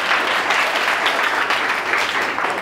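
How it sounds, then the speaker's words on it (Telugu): Students at a school yoga awareness programme clap steadily for a girl, a dense, even round of applause heard close by without talk. "ఈ అమ్మాయికి ఒకసారి చప్పట్లు కొట్టండి"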